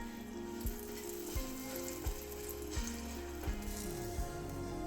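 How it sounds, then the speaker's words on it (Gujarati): A veg paratha fries in oil on a pan, giving a steady close sizzle with soft periodic thumps as it is pressed or turned, no voices. "આવી રીતે તેલ મૂકીને તમે પરોઠું શેકશો તો એ ક્રિસ્પી બનશે"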